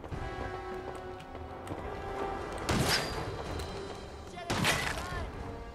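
Gunfire in Fallout 4, heard as a few muffled shot bursts at a moderate distance, two standing out more sharply, over a steady game background with a voice talking.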